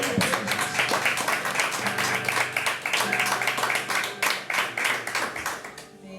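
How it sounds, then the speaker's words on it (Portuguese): A church congregation claps together during a sermon, a dense, steady run of hand claps over a low sustained musical tone that carries on without a break. "Dá uma salva de palmas."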